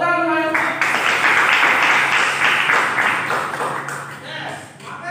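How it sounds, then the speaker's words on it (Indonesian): A school class claps together in a dense burst that follows a short tonal sound and fades toward the end, with voices mixed in. "Tepuk tangan semuanya."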